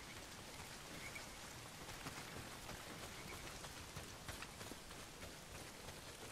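Steady rain in the Days Gone video game, a dense continuous patter of drops on surfaces at even, moderate loudness with no talking.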